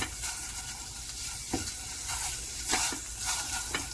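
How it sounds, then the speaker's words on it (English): Chorizo and eggs sizzle steadily in a frying pan, a continuous crackling hiss with a few brief clinks and scrapes of stirring, close and moderately loud with no voices. "And I'm just going to cook it."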